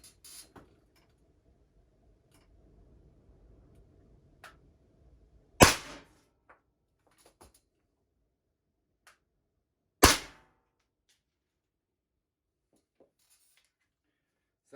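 Two sharp, close cracks from an Umarex Alpha air pistol firing rubber steel balls, spaced about four seconds apart, each a brief loud snap with a short tail over quiet surroundings.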